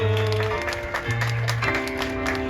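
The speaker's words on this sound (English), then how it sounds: "Let's have a round of applause for Princess Rapunzel" An audience in the Royal Theatre at Disneyland applauds Princess Rapunzel after a Tangled stage show, with a soft wash of clapping under sustained music.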